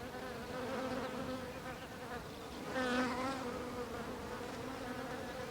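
A swarm of aggressive bees buzzes around village hives in the Tanzanian woods at dusk, a dense continuous drone that swells briefly midway and carries on steadily with no voices.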